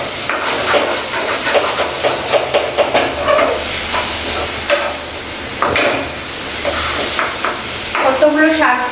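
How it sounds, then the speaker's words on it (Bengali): Leafy greens, nearly cooked, are stirred and turned in a pan with a steady sizzle of frying, broken by repeated scraping strokes of the spoon close up, continuing throughout. "এবার আমি শাকটাকে ভালো করে এভাবে নাড়িয়ে নাড়িয়ে তুলে নেব"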